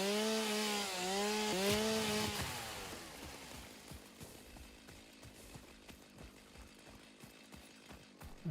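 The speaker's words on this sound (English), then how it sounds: "I'm about out of chainsaw fuel." Chainsaw in the game Satisfactory cutting through wood, a buzzing whine that drops off after a couple of seconds into scattered crackling and rustling debris, fairly quiet with no talk.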